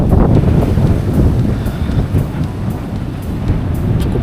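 Surf and strong wind at Pantai Sancang beach in Garut, a loud continuous roar with wind buffeting the microphone and waves washing in steadily, no talk.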